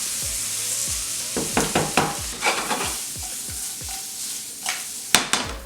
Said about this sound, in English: So right now I'm going to get my onions caramelizing, and then I'm going to add some butter.